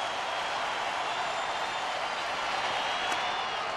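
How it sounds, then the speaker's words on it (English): A baseball stadium crowd stands and cheers during the seventh inning of a Giants at Dodgers game, a dense, steady roar of many voices filling the whole stretch without letting up. "Crowd on its feet now trying to help Blake Hawksworth."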